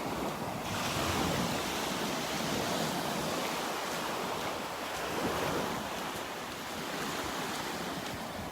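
Steady ocean surf and gusting wind fill the air at Wiggins Pass on the north end of Delnor-Wiggins beach, a continuous broad roar with mic buffeting, no voices.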